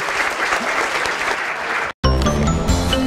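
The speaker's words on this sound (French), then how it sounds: "On les applaudit" A studio audience applauds young reporters on a French youth news show: steady dense clapping for about two seconds, then an abrupt cut into a bright chiming jingle.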